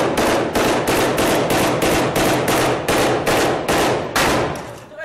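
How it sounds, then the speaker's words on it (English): An Islamic State fighter's automatic weapon fires in Mosul, loud and close, in about ten rapid, evenly spaced bursts of gunfire over five seconds, with no talking. "They're putting so many rounds down, his weapon becomes super hot. But he keeps firing."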